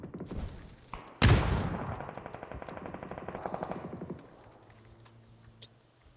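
Bursts of automatic gunfire in a PUBG battle, a sharp loud volley followed by a rapid rattling string of shots that echo and fade, with a few faint single shots afterward.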